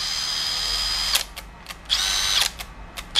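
A Makita 40V cordless drill whirs in several short, close bursts, stopping and starting with brief clicks between runs and no talk.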